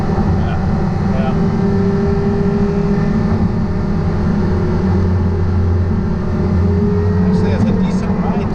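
A Porsche Carrera GT engine holding around 4,500 rpm, a loud, steady cabin drone with a continuous low rumble, while occupants talk over it.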